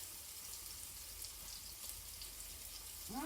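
Homemade sage breakfast sausage frying in a pan, a faint, even crackle and sizzle throughout with a brief tonal sound at the very end.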